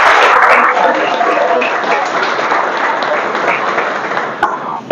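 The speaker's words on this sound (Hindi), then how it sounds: "लिए जोरदार तालियों से स्वागत चाहूंगा।" A crowd applauds to welcome an MPPSC topper who achieved third rank, a loud, dense burst of clapping from many hands that gradually thins and fades toward the end.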